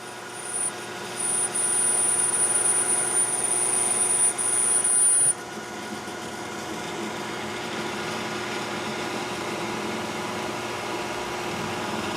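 A lathe cuts to relieve the back side of a brass part, a steady machine hum overlaid by a thin high-pitched whine of the cut that stops after a few seconds while the motor keeps running.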